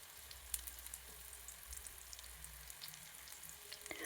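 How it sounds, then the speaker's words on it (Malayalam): Sweet potato snacks, seven pieces, fry in a pan as a Kerala-style treat, giving a faint, steady sizzle with scattered small pops and no voices. "ഞാനൊരു 7 എണ്ണം ഇപ്പോൾ ഫ്രൈ ചെയ്തെടുക്കുന്നുണ്ട്."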